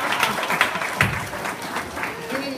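Audience at a family reunion banquet breaks into brief applause, a short patter of clapping from a moderately sized group heard fairly close and mixed with a few voices.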